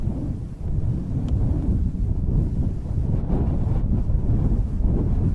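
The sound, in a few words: wind sweeping through tall grass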